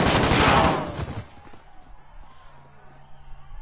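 A loud, rapid burst of MP5 submachine gun fire in a video game lasts about a second and a half, followed by quieter scattered game sounds, with people talking.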